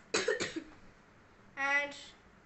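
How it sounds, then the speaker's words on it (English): A person with a cold and sore throat gives two quick, close coughs, then a short, rougher voiced cough a moment later, in a quiet room. "And cough."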